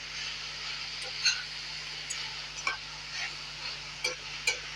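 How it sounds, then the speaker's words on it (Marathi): Chilli garlic vegetables with mushrooms being stirred in a pan after salt goes in: a soft steady sizzle under a low hum, broken by a handful of light spoon scrapes and clinks at irregular intervals. "भाजीत मीठ घातल्यानंतर भाजी आता मी ढवळून घेतली आहे"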